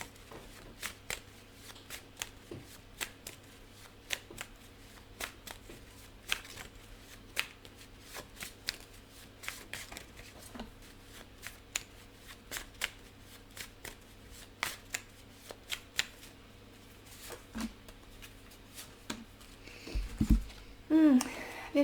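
Tarot cards being shuffled, a long run of crisp, irregular riffling flicks and slaps, fairly close and soft, with a few louder handling sounds near the end.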